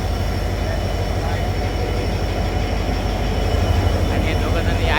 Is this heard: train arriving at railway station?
yes